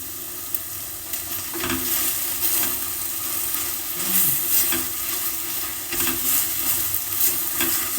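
Garlic sizzles and fries steadily in a hot pan alongside mung beans and leeks, with intermittent scraping and stirring strokes breaking through the continuous crackle.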